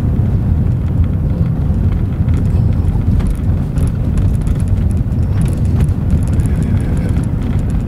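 A 25-year-old Audi A4 V6 quattro drives along with a loud, continuous low engine drone and road rumble, heard from inside the car with no talking.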